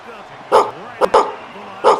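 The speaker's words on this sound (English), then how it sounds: "Who them dogs barking?" Dogs bark in the Madden NFL 26 football video game: three or four sharp barks, near and loud, spaced irregularly over a low steady background.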